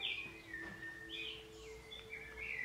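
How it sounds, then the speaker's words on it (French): Small birds sing outdoors on a sunny day: a faint scatter of high chirps, trills and sweeping whistles, on and off, over a soft ambient hush with no talking. "vous les avez peut-être entendus, ils sont en train de nous égayer de leur petit chant aujourd'hui"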